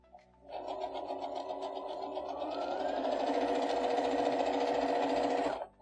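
A sewing machine stitches a 1/4-inch seam through quilting fabric, a close, steady rapid needle chatter lasting about five seconds that speeds up slightly before stopping.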